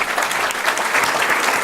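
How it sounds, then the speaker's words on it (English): A seated audience at a City Club of Chicago luncheon applauds Senator Durbin, steady dense clapping that stays loud throughout without voices. "Let's give Senator Durbin a big round of applause."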